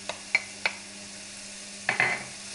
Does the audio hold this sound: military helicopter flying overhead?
no